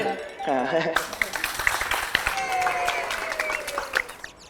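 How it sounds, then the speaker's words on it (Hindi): An audience breaks into applause at a Hindi superhero show. The clapping is dense and sustained, with scattered sharp claps, and a voice speaks briefly at the start. "ताली बजाइए।"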